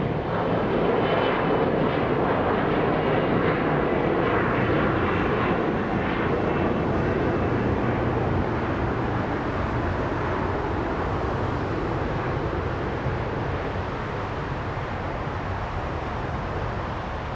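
An airliner takes off at Los Angeles International Airport, a loud continuous roar of jet engines sustained at close range throughout, slowly easing off toward the end with no other sounds over it.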